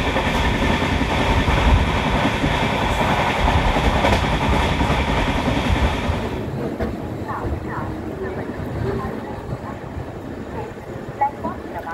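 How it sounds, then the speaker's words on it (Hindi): Two express trains, Karnataka Express and Karnataka Sampark Kranti Express, passing each other at Timarni in India, a loud sustained rumble and rattle of coaches that drops off abruptly midway, leaving quieter rolling clatter with occasional clicks. "कर्नाटका एक्सप्रेस मीट्स कर्नाटका संपर्क क्रांति एक्सप्रेस एट टिमरानी"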